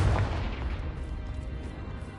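One heavy blast from the Confringo spell in Hogwarts Legacy, a deep booming burst at the start followed by a rumbling tail that fades over two seconds.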